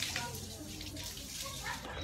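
Water runs in a constant soft rush from a free natural source in a village, with faint voices in the background.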